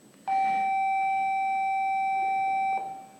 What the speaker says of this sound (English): That was a lovely bell halfway through lunch.